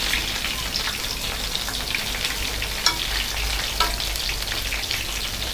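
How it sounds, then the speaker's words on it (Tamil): Soya chunks for soya 65 deep-frying in hot oil, a dense, steady sizzling crackle that carries evenly through the whole stretch with faint pops, loud and close with no voices. "ஒரு 2 to 3 minutes வந்து நல்லா ஃப்ரை பண்ணிவிட்டு அதுக்கப்புறம் நம்ம எடுத்துக்கலாம்"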